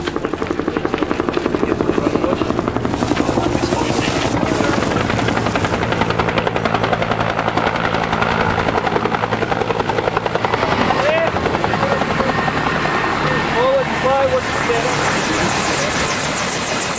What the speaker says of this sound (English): Helicopters are vital in this mountainous terrain.